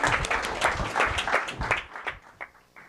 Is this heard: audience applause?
yes